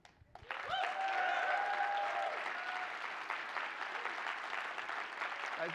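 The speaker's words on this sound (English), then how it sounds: "give a big round of applause and some cheers for these brave people" Crowd applause with cheering for a group of brave people at a morning gathering, breaking out after a short pause and holding steady and full, with high whoops and whistle-like cheers riding over the clapping early on.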